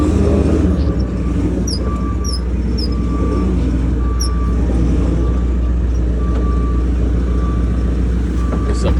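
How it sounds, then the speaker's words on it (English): A large truck rumbles close by at a scaffolding job site, its engine a steady low drone while it creeps forward, with short beeping tones and faint voices in the background. "you wanna pull the truck forward a little bit?"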